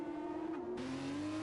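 An F1 race car from the game F1 2021 on the Monaco street circuit, a steady high engine whine holding pitch and then dipping slightly as it passes, heard alone.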